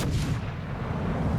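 Warship guns firing in World of Warships Legends, a heavy booming blast at the start rolling into a dense low rumble that fills the short stretch, no talk.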